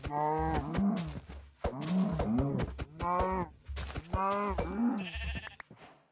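Cows in the Minecraft video game, several low, harmonic moos repeated in a steady series, loud and close with short gaps between calls and no talk over them.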